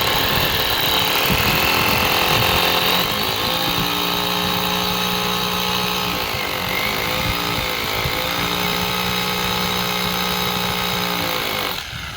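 An electric drill bores into a brick wall outdoors during a dish TV installation, giving a loud, steady motor whine that dips in pitch briefly as the bit bites, running continuously for about twelve seconds before cutting off.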